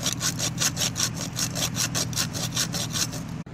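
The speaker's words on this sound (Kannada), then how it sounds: "ಇದು ನಟ್ ಬೋಲ್ಟಿನ ಇದನ್ನು ಕಟ್ ಮಾಡಿಬಿಟ್ಟು ತಗೊಬೇಕು" A saw cuts through a rusty nut and bolt at an earth pit in quick, even back-and-forth strokes, a steady rasping rhythm heard up close with no talking.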